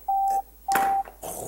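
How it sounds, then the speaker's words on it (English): A mobile phone's low-battery alert sounds two clear electronic beeps of equal length, close and distinct, followed by a brief rustle of background noise. "Oh, my phone is crying. Low battery."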